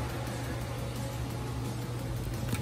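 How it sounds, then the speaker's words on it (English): A 4-speed electric fan set to medium-low runs inside a DIY powder coating spray booth, giving a steady, loud whooshing hum with a low drone that stays constant throughout. "it's a 4-speed fan. I've got it wired in for medium low at the moment."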